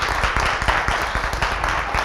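A studio audience on a French-language TV talk show claps together in a quick, even patter of many hands, close and fairly loud throughout the short burst.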